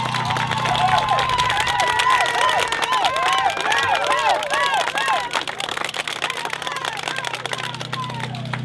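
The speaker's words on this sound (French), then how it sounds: "Je vous invite à leur témoigner votre encouragement en les applaudissant." A large crowd inside a Sears store at Place Laurier in Quebec City claps and cheers for cyclists on a youth cancer charity ride, a loud, sustained roar of applause with shouts and whistles mixed in.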